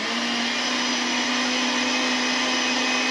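An electric mixer whirs steadily through cheesecake batter for a Japanese and New York cottage cheesecake, a loud continuous motor hum with a constant tone, close up and with no talking.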